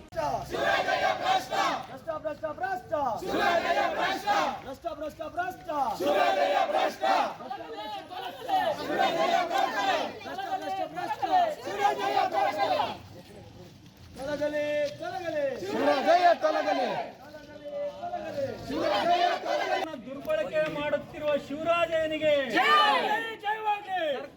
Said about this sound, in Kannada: ಇಒಗೆ ಜೈಕಾರ ಕೂಗುವ ಮೂಲಕ ವಿನೂತನ ಪ್ರತಿಭಟನೆ ನಡೆಸಿದರು